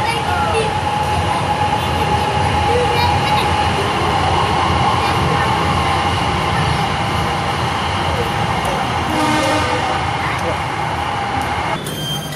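A Palembang LRT light rail train pulls into a station, a loud steady rumble with a sustained tonal hum and faint rail clatter throughout, while people talk nearby.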